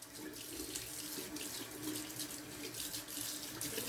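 Tap water runs steadily into a bathroom sink while hair is rinsed out of the basin after a straight-razor shave, a continuous close hiss and splash with no pauses.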